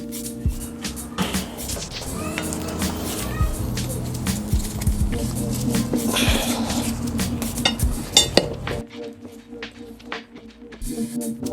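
Hickory wood chunks set onto charcoal in a smoker's charcoal basket, giving repeated knocking clunks and scraping clinks of wood and metal, fairly close, before a quieter stretch.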